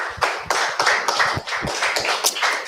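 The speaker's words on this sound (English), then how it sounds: "So let's clap for our MD for that." A small audience claps at a real estate presentation for a Vatican Garden Estates property, the sparse, uneven claps loud and close, each one distinct, with no talk.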